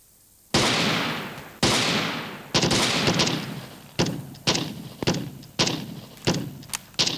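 Rifle shots crack out one after another on a military shooting range, about eight sharp bangs with short echoing tails, spaced roughly a second apart and then coming quicker.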